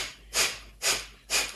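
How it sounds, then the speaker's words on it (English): Rapid rhythmic yoga breath-of-fire exhalations, three forceful nasal puffs spaced about half a second apart, close and clear with quiet gaps between them. "and we're going to keep on looking up. Breath of fire."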